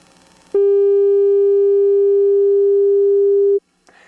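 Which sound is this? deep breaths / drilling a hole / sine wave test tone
sine wave test tone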